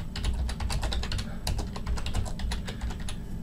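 Rapid, continuous typing on a computer keyboard, close and crisp, with dense clicking keystrokes throughout over a low steady hum.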